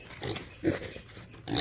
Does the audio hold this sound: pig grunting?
yes